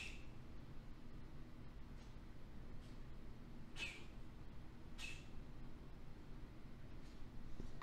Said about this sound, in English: And the cat is reverse sneezing, if you can hear that.